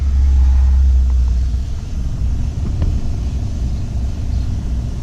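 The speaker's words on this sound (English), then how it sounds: "here the blower on low" Heater blower motor in a 2002–2008 Dodge Ram running on its low setting, a steady low hum and airflow rumble that holds constant from start to end.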